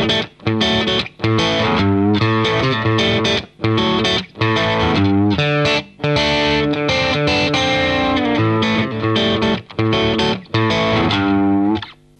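Heavily distorted electric guitar through a Yerasov 3000 Volt gain pedal, single-coil pickup, plays loud chords and riffs with a thick overdriven tone, strummed in bursts with brief gaps between phrases.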